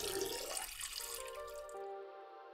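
A Heidolph Laborota 20 series self-filling water bath fills with a loud, hissing rush of running water that fades into sustained tonal ringing.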